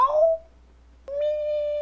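A person imitates a cat with two drawn-out vocal meows, the first wavering and fading, the second steadier and held, with a short quiet gap between them.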